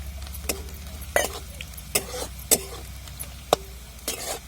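Onion sautéing and being stirred in a pan for a drumstick masala fry: a low continuous frying sizzle under repeated sharp scraping strokes of the spoon against the pan, with no talk.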